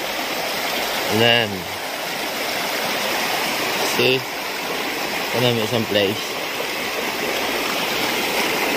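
Water in a fast mountain stream rushes and gushes steadily throughout, loud and close, while someone talks over it in short bursts.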